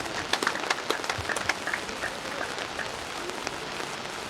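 An audience claps in scattered, patter-like applause that peaks early and then settles into a steady wash, following a speech at an Easter camp opening service.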